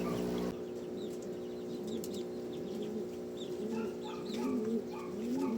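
Pigeons in a loft with grown young birds, soft rolling coos repeating throughout at close range over low background noise, with a few faint chirps mixed in.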